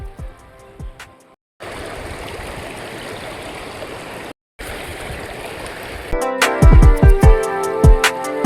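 Stream water rushes and gurgles in a steady broadband wash, close and loud, with two brief dropouts and a burst of splashing or knocking near the end; no one speaks.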